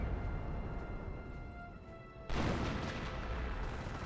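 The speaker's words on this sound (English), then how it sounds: "There's a creeping barrage down this sector there." Creeping artillery barrage in Company of Heroes, a continuous distant rumble of shell impacts that jumps suddenly louder into a dense roar of blasts partway through, with no talk.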